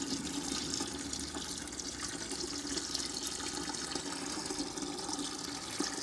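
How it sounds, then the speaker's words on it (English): Cold-steeped dark grain liquid pours into a boiling homebrew wort for a Black IPA, a steady, splashing watery rush that runs continuously at moderate loudness. "And finally I'm going to tip in the cold steeped dark grain."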